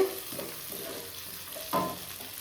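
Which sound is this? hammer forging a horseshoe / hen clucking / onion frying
onion frying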